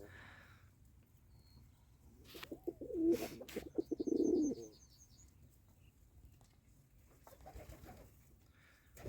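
A pigeon coos softly with a low, throaty burble amid quiet background rustling and faint chirps.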